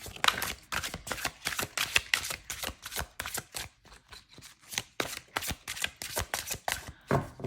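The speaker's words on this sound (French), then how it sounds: "je le mélange quand même assez bien parce que comme il est tout nouveau et qu'il est tout dans l'ordre" A brand-new tarot deck is shuffled by hand in quick repeated riffles, a rapid run of close, crisp card flutters with short pauses between bursts and no talking.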